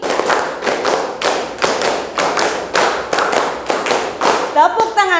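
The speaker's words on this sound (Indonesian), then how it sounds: "Tepuk tangan untuk kalian semua." Students in a classroom clap their hands in a steady repeating rhythm of loud, close claps grouped in short patterns, with a voice rising briefly near the end.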